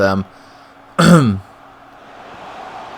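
A man coughs and clears his throat, a short burst followed by a heavier, raspy rumble a second later, close to the mic, then quiet room tone.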